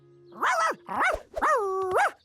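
Cartoon dog barking in a Curious George episode, three loud, drawn-out, tonal barks with a howling, yelping quality, close and clear with short pauses between them.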